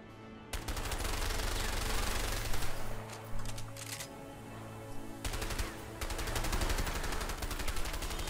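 Sustained automatic gunfire in the video game A Way Out, loud rapid bursts filling nearly the whole stretch with a short pause in the middle, no talking over it.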